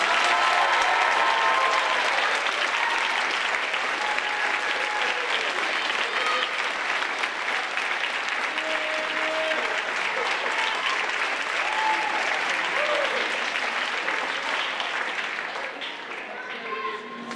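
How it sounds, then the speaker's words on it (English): A big round of applause from an audience, loud, dense and sustained clapping from many hands that keeps going for a long stretch, with scattered voices and a few cheers mixed in before it starts to taper at the end. "I'd like to have one last big round of applause for Zach."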